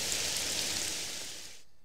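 Steady rain falling in a Pokemon fan video game, a dense hiss of rainfall lasting under two seconds before abruptly stopping into silence.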